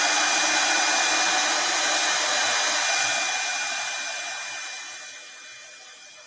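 A hair dryer blows a steady, loud, close whoosh over freshly applied chalk paint, then gradually fades in the last few seconds, running alone without talking.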